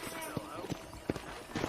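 Horse hooves clip-clop in the video game Red Dead Redemption as a horse sets off on a ranch, a few distinct soft thuds spaced irregularly over low background music and ambience.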